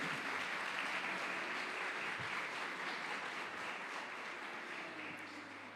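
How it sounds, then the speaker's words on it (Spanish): A church congregation applauding, steady sustained clapping from many hands filling the room, gradually easing at the end. "Denle aplauso al Señor."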